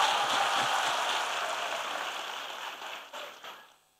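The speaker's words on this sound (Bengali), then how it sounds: "ইমোশনসের জন্য বটেই জোরে হাততালি।" Loud, steady applause from a rally crowd gathered for Dr Yunus, a continuous crackle of many clapping hands that slowly weakens and breaks into a few scattered claps before stopping.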